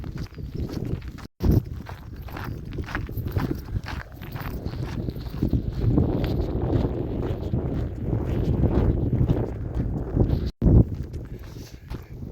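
A headwind buffets the microphone outdoors in loud, uneven gusts and low rumbles, with a brief dropout twice and no speech.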